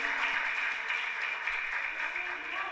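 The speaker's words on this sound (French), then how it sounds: "Sur vos applaudissements, mes chers amis." Steady audience applause for a school team at a televised quiz competition, a dense even wash of clapping throughout with a faint voice over it.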